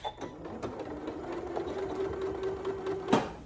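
A Janome Memory Craft MC9450 sewing machine back stitches on a zippered pouch, giving a short, moderately quiet mechanical whir that ends in a sharp click.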